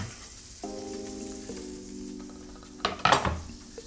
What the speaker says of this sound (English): fry off the garlic a little bit until it's sort of lightly golden brown in that butter